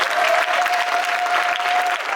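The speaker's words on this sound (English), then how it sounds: "Can you give a clap offering to this mighty God?" A church congregation claps together in a dense, steady burst of applause that lasts about two seconds, with a faint sustained tone running underneath.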